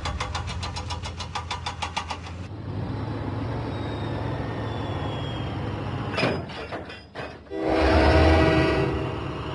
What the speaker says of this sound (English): Diesel set out for Knapford Station